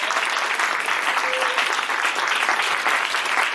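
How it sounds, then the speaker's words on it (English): An audience at a gala fundraiser claps steadily and fairly close, a dense, even burst of applause lasting throughout. "So guys, give her a round of applause,"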